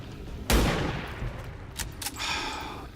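A single loud gunshot in a turn-based strategy video game cracks sharply near the start and then rumbles away, followed by softer in-game clatter.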